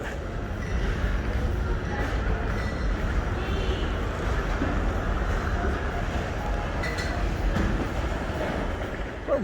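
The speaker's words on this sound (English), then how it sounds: "The train heading over the Borough Market." A train rumbles steadily overhead as it crosses the bridge above Borough Market in London, a continuous loud low roar with faint clatter, mixed with busy market crowd noise.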